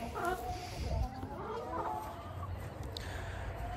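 A rooster with a comb damaged from being pecked by hens, in an unsettled state, gives several soft, close clucks and low vocal sputters over a quiet background.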